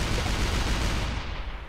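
A rapid burst of video game gunfire fills the short moment, dense and loud without any pauses, with no voices over it.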